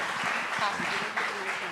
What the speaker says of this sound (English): This deserves an applause, folks.